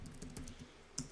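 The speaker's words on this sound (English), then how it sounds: "start typing along one line" Quiet keystrokes tap on a computer keyboard in a short, irregular run of about half a dozen soft clicks, close and faint.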